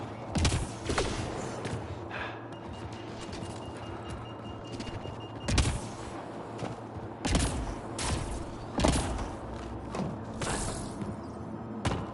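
Video game gunfire in Mass Effect Andromeda: repeated sharp shots and bursts crackle at irregular intervals over a steady rumbling background, with heavy impacts standing out above the din and no talk.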